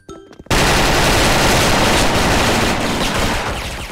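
An FN FAL rifle fires a loud burst that hits hard and stays dense for several seconds before slowly fading at the end.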